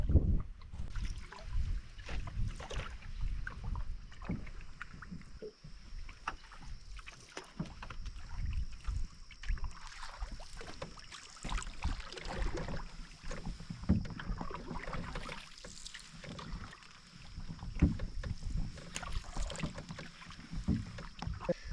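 A canoe paddled along a river, with soft rhythmic paddle strokes and water swishes, steady and fairly close, over light wind noise, with no voices.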